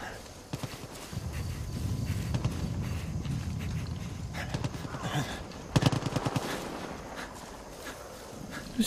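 Rapid gunfire bursts in Far Cry 5 crackle in the mid-distance, dense and irregular, mixed with galloping hoofbeats and footsteps over a steady low ambient rumble, growing louder near the end.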